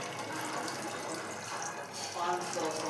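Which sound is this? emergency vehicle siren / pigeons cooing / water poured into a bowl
water poured into a bowl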